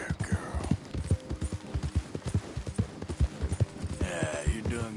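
A horse trots in Red Dead Redemption 2, with steady, even hoofbeats clopping close by throughout and faint background sound underneath.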